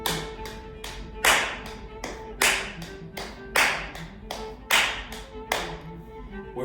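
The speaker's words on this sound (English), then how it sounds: "Clap, knee, knee. Clap, knee, knee." Rhythmic group body percussion in a repeating clap, knee, knee pattern: one sharp hand clap followed by two softer knee slaps, cycling steadily and close by, with a faint hum underneath.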